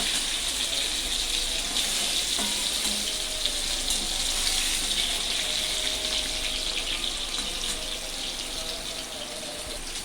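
Steady, dense sizzling of pointed gourd frying in oil, a constant crackling hiss with a few faint clinks, close and even throughout.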